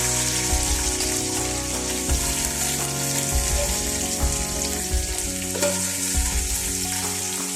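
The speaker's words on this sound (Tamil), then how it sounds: "ஓகே, வெங்காயம் நல்லா வதங்கிடுச்சு" Steady, loud sizzling of onions frying in a hot pan for a tamarind crab curry, with occasional stirring scrapes and crackles throughout, no talking.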